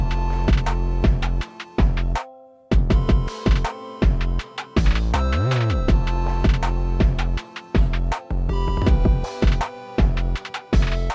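A hip-hop beat plays alone at full level: punchy drums, simple mallet chords, and a looping sample that pitches up and down, with a noticeable swooping bend partway through and a few brief dropouts between hits.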